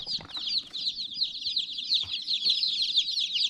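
Dense, continuous high peeping of many newborn chicks crowded in a brooder, a steady overlapping chorus close to the listener with a few soft low thumps underneath.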